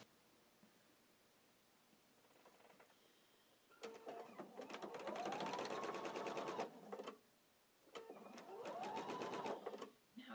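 Home sewing machine stitching quilt fabric pieces in a chain, two bursts of steady rapid needle whirring with a rising motor pitch, separated by short pauses, close and clear.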